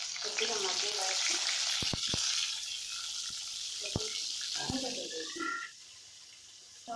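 Small brinjals drop into hot oil for a masala curry and fry with a bright, steady sizzle. A few sharp clicks and a brief murmur of voice sit under the crackle.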